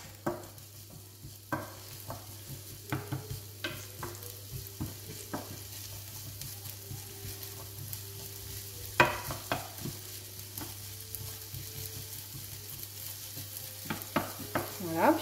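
A tortilla of potatoes and egg fries in a pan on high heat, a faint steady sizzle broken by frequent utensil taps and stirring clicks, with no voices.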